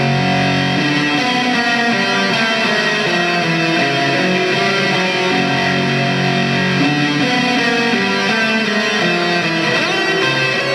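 A heavily distorted electric guitar riff, loud and dense, with thick sustained chords and shifting notes, playing continuously with no talking.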